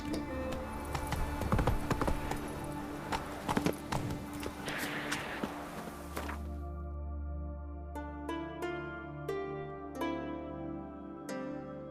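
Horse hooves clip-clop steadily along a road under ambient music in The Witcher 3, the rhythmic beats prominent in the first half before fading as sparse musical notes ring out.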